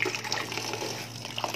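Molokhia leaves being washed in water, with close, steady splashing and trickling that continues alone without talk.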